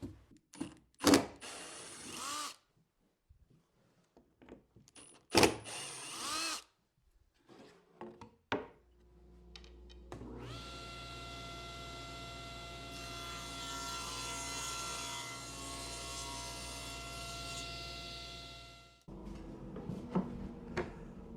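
A table saw rips a strip of wood for a crosscut sled, its motor spinning up to a steady whine for several seconds amid the cutting noise, preceded and followed by scattered knocks and handling sounds in a workshop.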